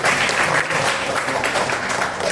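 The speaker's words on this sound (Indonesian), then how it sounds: "Beri tepuk tangan semuanya." Class applauding during a micro-teaching lesson, steady enthusiastic clapping from a room of students that stays full and even throughout, with no talking over it.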